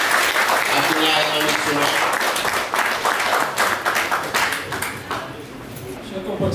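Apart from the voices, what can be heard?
audience applauding the federal secretary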